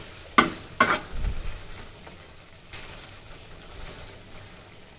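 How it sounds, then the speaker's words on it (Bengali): Small fish sizzle in a frying pan while being stirred, with a few sharp scraping clacks near the start followed by a soft, steady crackle. "এখানে হলো ছোট মাছটা হইতেছে, একটু লাড়া দিয়ে দিই"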